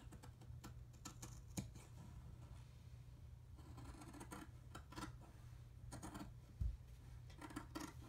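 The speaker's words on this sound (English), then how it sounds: "So the first thing we're going to do is cut out strips, and from those strips we will be cutting out our petals." Scissors cutting strips of felt for ranunculus flower petals, making soft, scattered snips and scratchy rubbing at close range, with no talking.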